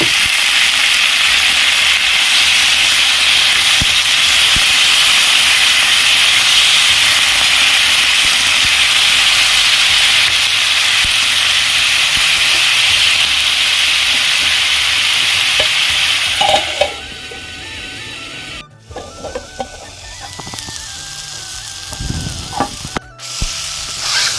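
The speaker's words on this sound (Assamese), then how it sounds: "এতিয়া মই বেঙেনা আলুখিনি ইয়াত ভাজি ল'ম।" Eggplant and potato pieces fry in a hot wok seasoned with asafoetida, giving a loud, steady sizzle with stirring for most of the stretch, then easing into quieter scraping and clinks near the end.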